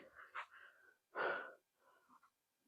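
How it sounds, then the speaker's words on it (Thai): Heavy panting from someone climbing temple stairs, a few close, raspy breaths with one loud wheezy gasp in the middle, alone without speech. "หอบเลย"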